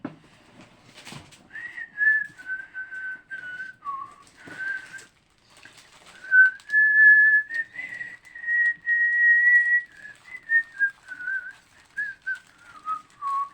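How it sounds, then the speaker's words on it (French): A person whistles a wandering melody alone, long held and sliding notes in phrases with short gaps, fairly close and clear, with a few soft clicks between phrases and no talking. "quand ça m'énerve, je siffle à l'international"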